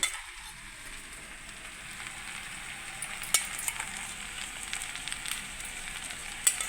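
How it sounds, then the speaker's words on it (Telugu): Noodles fry in a pan while a homemade spice powder mix is stirred through, making a soft, steady sizzle with faint scraping and a couple of sharp ticks, quiet and without talk. "నూడిల్స్ వేస్తున్నాను ఇందులో ఇది మనము మిక్స్ చేసిన పొడి"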